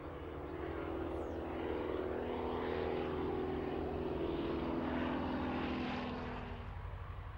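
A Bücker Jungmann two-seat biplane flies past, its propeller engine droning steadily at moderate distance, swelling slightly and then easing off.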